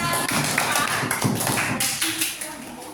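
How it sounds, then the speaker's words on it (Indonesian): Applause from a classroom full of students, dense rapid clapping that runs steadily throughout at a fairly loud, close level. "Boleh tepuk tangan buat dia."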